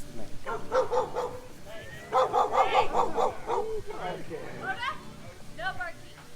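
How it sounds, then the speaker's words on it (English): A dog barks and yips repeatedly in short bursts with some whimpering, close by indoors while people prepare smash burgers. "No barking."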